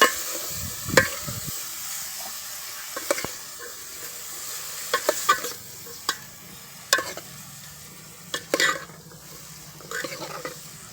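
Spiny gourd (kantola) curry with masala being stirred in a pan, with scraping strokes at irregular intervals over a low steady sizzle, close and fairly loud, with no talk.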